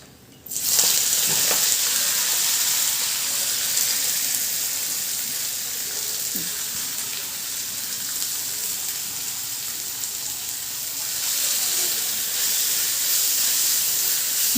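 Chopped onion, mustard seeds, cumin, fenugreek leaves and green chilli frying in hot oil, a loud steady sizzle and hiss that flares as the ingredients drop in and continues close up throughout.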